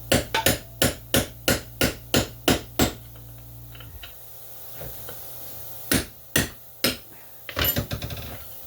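A hammer strikes a steel part of a 4L60E transmission pump in a rapid run of about ten sharp metallic blows, then a pause with a faint scrape and a few more hits, close and loud.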